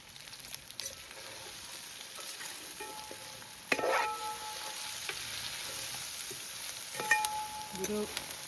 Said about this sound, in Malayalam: ഇതിനെ നല്ലപോലെ വഴറ്റിയെടുക്കാം. കറിവേപ്പില ഇട്ട് കൊടുക്കാം.